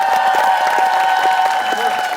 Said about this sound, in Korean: 다시 한 번 더 환영의 박수로 부탁드리겠습니다